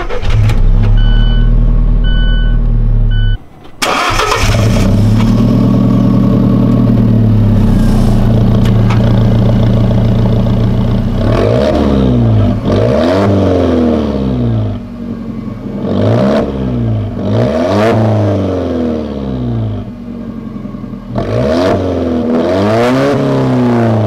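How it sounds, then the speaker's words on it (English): An Alfa Romeo 4C sports car engine cranks and fires about four seconds in, then settles into a loud, close, rumbling drive with repeated rising revs and gear changes. "so you can also hear the engine."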